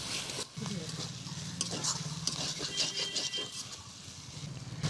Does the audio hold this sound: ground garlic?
yes